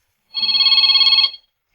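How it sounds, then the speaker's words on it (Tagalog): A cellphone rings with one loud, close burst of bright electronic trilling that lasts about a second, then cuts to silence. "Si cellphone ko. Agri-ring."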